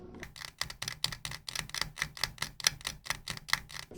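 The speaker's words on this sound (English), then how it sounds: "Here's the clicking noise." Sharp clicking from a video game that signals Specimen 3 is coming, a steady string of dry, close ticks, about four a second, loud and with nothing behind it.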